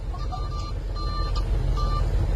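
Vehicle reversing on a busy road in traffic, its reversing alarm giving repeated short high beeps in a steady rhythm over a low rumble of engines and traffic, with no talk.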